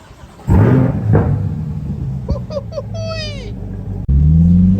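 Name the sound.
C8 Corvette engine driving off on the road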